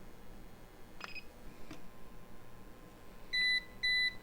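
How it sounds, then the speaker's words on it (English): An APC Back-UPS 425 (BE425M) on low battery gives two short, loud electronic warning beeps near the end, over a faint hum and a couple of small clicks, with no talking. "Now it's beeping, telling me that it's at pretty low battery capacitor rating"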